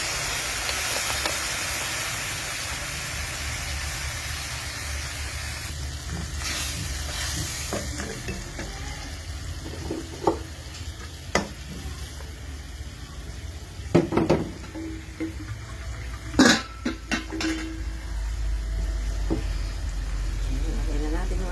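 Coconut milk simmering in a pot for ginataang takway, the taro-stalk dish, giving a steady close hiss with occasional sharp clinks and bumps while a voice speaks now and then.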